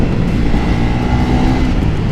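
Motorcycle engine building speed gradually, a steady dense roar held at constant loudness throughout, close and continuous with no pauses.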